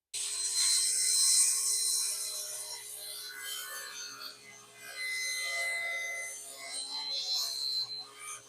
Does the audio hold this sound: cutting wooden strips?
yes